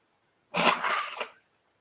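A single sneeze bursts out after a moment of silence, close and loud, lasting under a second before trailing off.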